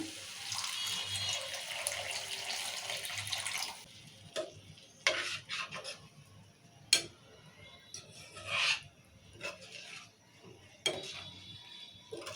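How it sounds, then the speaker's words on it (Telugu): Water pours steadily into a cooking pot of egg curry for a few seconds, then gives way to clinks, taps and short splashes of liquid against the pot. "ఇప్పుడు కొన్ని వాటర్ పోసుకుందాము"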